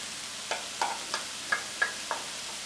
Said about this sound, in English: So what we're going to do is going to go ahead and saute these.